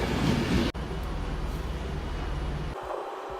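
Steady rumble of a train on the London Euston route, heard from a seat inside the carriage, with a brief sharp dropout early on and a softer, quieter stretch near the end.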